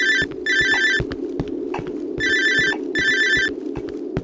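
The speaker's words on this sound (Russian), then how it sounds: "Что это, телефон звонит?" A telephone rings in the Cry of Fear video game, giving four loud, close bursts of electronic trilling in a regular on-off rhythm over low ambient hum.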